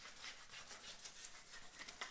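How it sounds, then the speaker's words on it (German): A freshly painted moped being sanded by hand, a soft continuous rubbing and rasping scrape close by, quiet and even with slight rhythmic strokes and no talking. "Darum kann ich hier ein bisschen länger schleifen"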